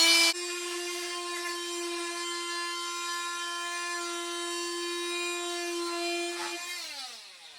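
A power tool trims an oversized piece of white PVC board for a narrowboat shower, giving a steady high whine that holds throughout and then winds down at the end.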